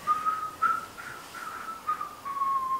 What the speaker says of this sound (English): I learned how to whistle, if you couldn't tell.